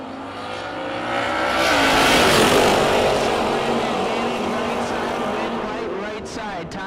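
A Chevelle drag race car at a no-box open event roars off the line with loud revving that swells and then fades as it pulls away, with an announcer talking over it.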